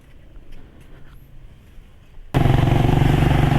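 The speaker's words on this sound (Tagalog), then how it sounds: "nasakay na ako ng tricycle" A motorized tricycle's engine, quiet and muffled at first under background noise, then abruptly loud and close as a steady droning rumble for the final second.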